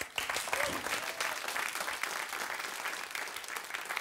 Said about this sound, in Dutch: Een daverend applaus.